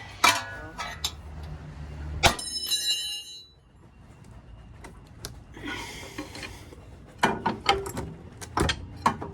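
A ball joint separator tool works on a car ball joint during a Honda Integra manual swap, with close ratcheting clicks, metallic knocks, sharp bangs and a brief ringing tone in an irregular sequence.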